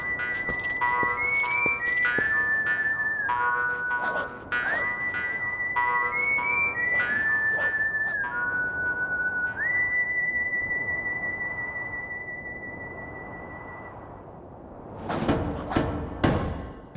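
A bright whistled melody plays the Hidden Village theme from Twilight Princess, stepping through sustained notes in a steady tune, followed near the end by a few sharp thumps and clattering hits.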